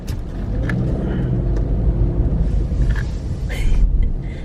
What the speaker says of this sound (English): It's like a bigger car as well. It's a white one. It's a Mercedes.